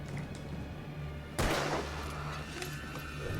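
Gunfire in the video game Alan Wake Remastered: a single loud shot bursts out over a low ambient game background, then fades, with faint later sounds and no talk.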